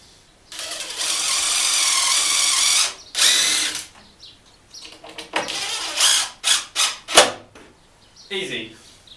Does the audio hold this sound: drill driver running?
yes